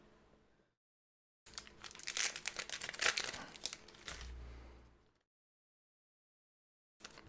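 A Pokemon promo card slides into a soft plastic sleeve, giving a close, steady crinkling and rustling for a few seconds that swells and fades, with quiet gaps before and after.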